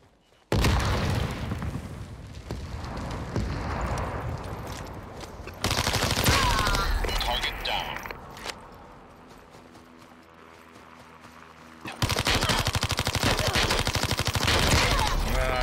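Bursts of MP5 submachine gun fire in the online shooter game Super People, loud rapid volleys in several separate strings of shots, with a quieter gap between them.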